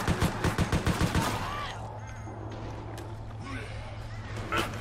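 Rapid bursts of gunfire from zombies in the video game Resident Evil Operation Raccoon City rattle off loudly in quick succession, then give way to quieter game ambience with a faint burst at the end.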